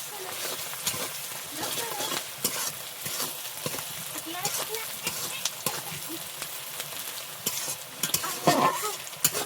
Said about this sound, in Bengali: আমি নুডলসের জন্য এরকম পেঁয়াজ আর কাঁচা লঙ্কা এইভাবে হালকা ভাবে ভেজে নিয়েছি।